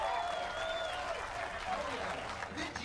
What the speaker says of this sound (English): a rapturous cheer for the American